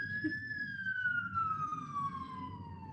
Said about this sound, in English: I'm sorry, there's another siren.